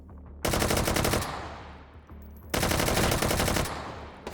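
Rapid automatic gunfire in the VR shooter H3VR, two loud sustained bursts of continuous shots, each about a second or more long, separated by a short pause with echoing tail.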